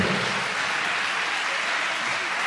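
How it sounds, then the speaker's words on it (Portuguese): A church congregation applauding during a sermon, a dense, steady wash of clapping from many hands lasting a couple of seconds without pause. "Pode aplaudir o Senhor?"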